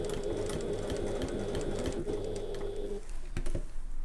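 A sewing machine stitches a handbag in short tiny stitches, running steadily and close for about three seconds, then stopping as the fabric is pivoted at a corner.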